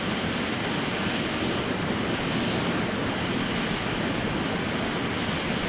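A jet airliner on approach to land in a crosswind, with gear down and flaps set, heard as a loud, continuous broadband engine and air roar that stays steady throughout.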